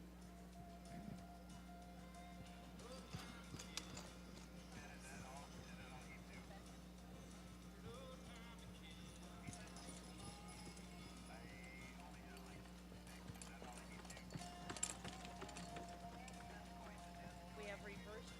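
Horses trotting while pulling mare carts in a registered mare cart racing event, steady clip-clop of hooves under a constant crowd and arena background, with a public-address voice speaking over it.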